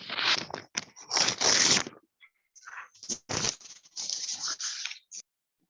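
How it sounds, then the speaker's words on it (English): Scissors snip through a folded sheet of paper in several bursts of crisp cutting and rustling, close and fairly loud, with brief pauses between cuts and no talking. "On the top right, cut a piece of paper."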